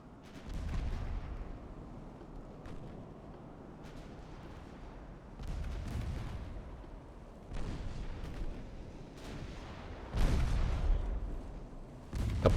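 Secondary 5-inch and 3-inch guns on battlecruisers in Ultimate Admiral Dreadnoughts fire in repeated booming salvos, several clustered volleys with rumbling tails, the loudest and sharpest near the end.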